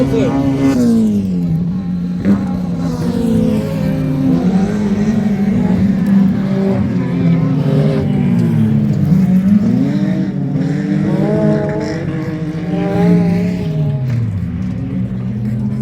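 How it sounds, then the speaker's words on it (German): A naturally aspirated six-cylinder autocross race car engine revs and accelerates loudly, pitch sweeping up and down, with a commentator talking continuously over it. "kommt auch der Jaguar von Dennis Henkel, der 6-Zylinder-Sauger, kommt hier richtig in Fahrt"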